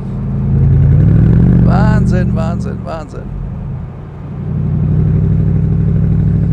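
Deep, thundering drone from the side-exit exhausts of a 2008 Mercedes SLR McLaren Roadster, steady and loud, dipping briefly midway while someone speaks a single exclamation, then swelling back to a continuous roar.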